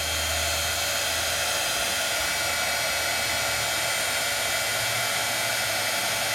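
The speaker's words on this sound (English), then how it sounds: "I move my heat tool." A heat tool blows a constant, close, loud rushing whoosh onto embossing powder, an unbroken airflow roar running steadily throughout with no voices.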